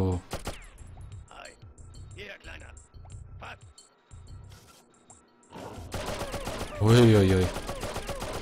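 Sharp, heavy gunshots ring out in separate bursts in Oddworld: Abe's Oddysee, each with a punchy kick followed by quiet gaps, building into a louder flurry near the end as a man exclaims briefly.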